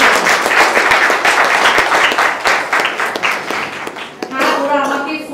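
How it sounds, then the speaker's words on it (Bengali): Audience at an award ceremony clapping loudly in a dense, sustained burst that thins out toward the end, with a voice speaking over the tail. "আমি চাই যে বৈদিহ্য, রঙ্গন এবং টিভির জন্য একটা সবাই জোরে হাত তালি।"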